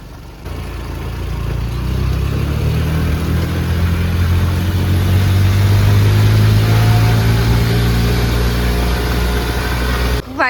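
A car engine labouring steadily up a steep shortcut road to Nahargarh Fort in Jaipur, with a loud, continuous low drone heard from inside the car and a slight rise in pitch partway through.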